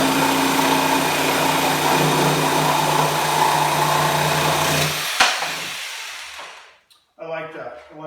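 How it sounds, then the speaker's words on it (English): A Bosch 7.2 amp top handle jigsaw makes a straight cut through wood, its motor whirring steadily and loudly for about five seconds before stopping and spinning down, with a voice speaking afterward. "I'm going to do a straight cut."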